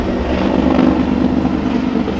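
A firefighting helicopter flies over a large wildfire in France, its rotor and engine making a loud, steady, close roar that fills the whole moment without a break.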